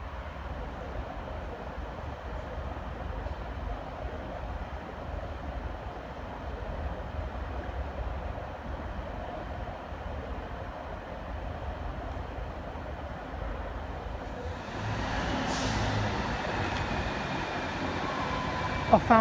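Class 153 diesel train, unit 153355, departing Stoke-on-Trent for Crewe: a low, steady engine rumble that swells louder near the end, with a sharper mechanical rise as it pulls away.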